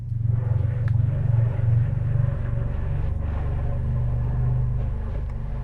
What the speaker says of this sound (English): Right now a tractor is passing by the door.